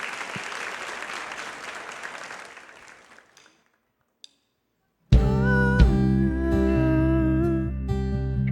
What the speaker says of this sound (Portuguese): Aplauda esse Deus tão maravilhoso nessa manhã.